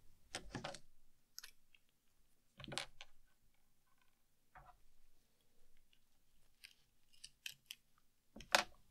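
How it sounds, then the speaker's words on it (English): An X-Acto knife prying and peeling stuck layers off the back of an original Game Boy screen gives sparse, close scraping clicks and short crackles separated by quiet gaps, with no talking. "I'm going to take my X-Acto and try to slide it underneath these layers stuck onto the back of the screen"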